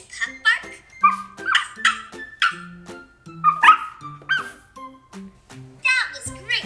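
A child imitates a puppy's bark with a string of short, high yipping calls that carry a clear voiced pitch. Each call comes as its own burst with small pauses between, and the voice is close and fairly loud.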